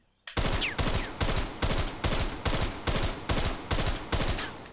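AUG rifle in Black Ops Cold War fired at a wall in a rapid-fire sequence, about ten loud, evenly spaced bursts in a steady rhythm after a brief silence, with no voices.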